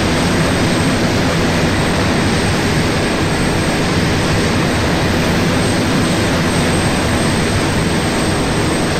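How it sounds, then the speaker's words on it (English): A plane's engine roars steadily and loudly throughout, a constant broadband drone from an aircraft in the military game Arma 2, with no voices over it. "It's really hard to hear you over the engine."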